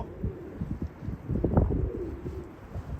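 White pigeons coo softly nearby, a few low throaty calls rising and falling over a faint background of rustling.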